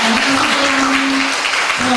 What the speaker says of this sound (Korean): 청년 대학생 박수하겠습니다